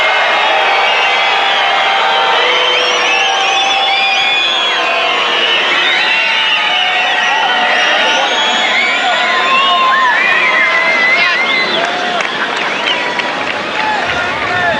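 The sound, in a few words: tennis crowd noise at French Open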